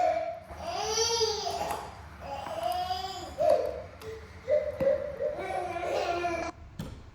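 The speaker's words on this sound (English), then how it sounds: "it got really noisy there with my son being fussy" A young son fusses and babbles close by, his voice rising and falling in drawn-out whiny syllables with short breaks, sometimes edging toward crying, in a quiet kitchen.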